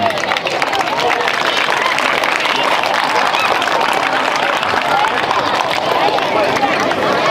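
Children applauding and cheering in a large group, a dense steady wash of clapping and crowd noise that continues unbroken and loud throughout.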